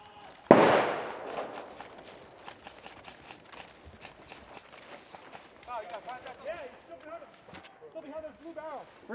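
Airsoft guns firing at an outdoor desert airsoft event around a castle structure, one loud close shot at the start followed by scattered fainter pops, with players talking throughout.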